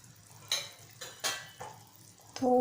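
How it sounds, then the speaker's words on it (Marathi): Small mandeli fish dropped into a boiling Malvani-style curry and stirred, giving a few soft splashing clatters in a quiet kitchen, ending in a louder bubbling, scraping stir. "मांदेली सोडूया"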